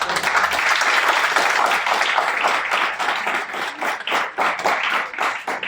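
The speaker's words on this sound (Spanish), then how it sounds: "y un aplauso pues para todos." An audience applauds at a school event presenting colonial-era Mexican dishes, with dense, steady clapping that thins slightly toward the end and no talking.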